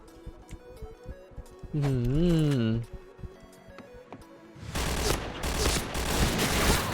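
Bursts of rapid automatic fire from a G11 rifle in a shooting video game. The fire comes in a sustained, loud stretch near the end, while a voice talks in between.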